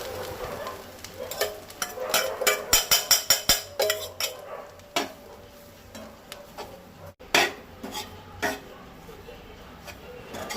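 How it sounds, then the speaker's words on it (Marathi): Finely ground coconut is stirred in ghee in a pan for a Goan nevryo filling, with repeated scraping spoon strokes in quick bursts over a soft frying sizzle. "मिक्सरान बारीक केल्ली सय ती घालपाक जाय आनी बरी परतूंक जाय तुपाचेर।"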